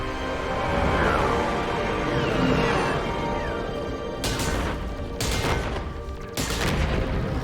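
Sci-fi gunfire in the Mass Effect 3 video game: a sustained roar of battle noise followed by several sharp, loud bursts of shots in quick succession near the end.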